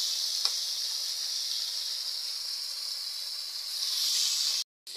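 Squeezed pieces of banana stem sizzle in a frying pan with a loud, steady hiss that swells slightly near the end before cutting out abruptly.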